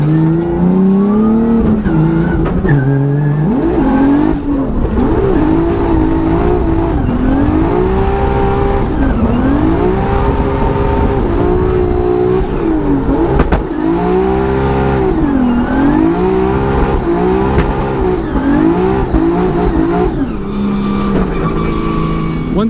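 A drift car at a Formula Drift event in Utah, its engine revving hard and loud through repeated rising and falling sweeps, with tire squeal and skidding mixed in across the whole run.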